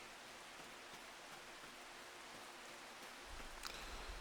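Steady rain in Farming Simulator 25 hisses evenly throughout, light and diffuse, growing a little denser and louder near the end with a soft splashing patter, no voices present.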